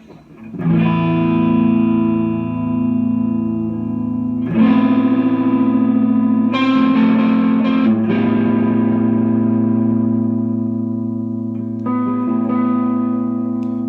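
An Ibanez AR325QA electric guitar played through effects on the neck pickup rings out in sustained, distorted chords with chorus and reverb, each new strum swelling up loud and then decaying.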